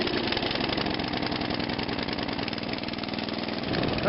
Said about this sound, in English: Cool little snowblower.